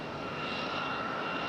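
A JetBlue Airbus A220 jet airliner at Raleigh-Durham International Airport gives off a steady, unbroken engine roar that holds at an even loudness throughout, with no voices.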